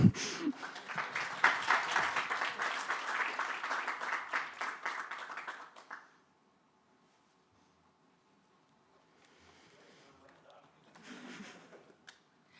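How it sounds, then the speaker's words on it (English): Audience at a stakeholder forum gives a round of applause, dense clapping for about six seconds that stops abruptly, followed by near silence and faint shuffling sounds. "huge round of applause"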